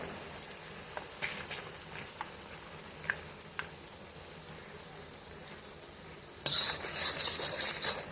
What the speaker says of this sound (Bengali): কাজু আর চালমগজ বাটার কাঁচা গন্ধটা যাওয়া পর্যন্ত আমরা এটাকে ভালো করে কষিয়ে নেব।